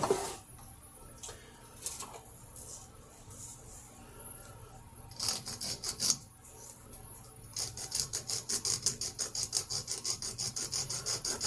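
Rasping file and sanding strokes work the corners off a small plastic TJet slot car buggy body, scattered scrapes at first, then a fast steady run of close, repeated rubbing strokes.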